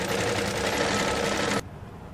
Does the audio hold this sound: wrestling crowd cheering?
no